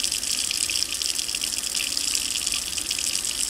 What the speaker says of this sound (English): So now we have the warm water. We're just going to go ahead and rinse this off.